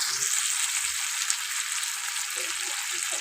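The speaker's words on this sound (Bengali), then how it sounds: "ভেজে রাখা আলুগুলো দিয়ে দিলাম, দিয়ে কিন্তু খুব ভালোভাবে কষিয়ে নেব।" Fried potato pieces sautéed in hot oil for a curry, giving a loud, dense, continuous frying hiss with faint scraping stir sounds and no talking.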